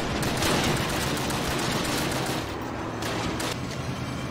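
Sustained, loud gunfire fills a Call of Duty: United Offensive battle, dense overlapping shots and blasts rolling without pause, with no talk over it.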